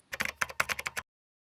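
A password is typed on a computer keyboard, a quick close run of about nine crisp key clicks lasting under a second, then silence.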